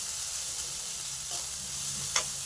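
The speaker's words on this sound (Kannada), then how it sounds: "ಇದನ್ನು ಹಾಕ್ಕೊಂಡು ಸ್ವಲ್ಪ ಬಾಡಿಸಿ." Homemade spice paste sautéing in a pan for aloo paratha, a soft steady sizzle through the whole stretch with a brief faint stir or clink near the end.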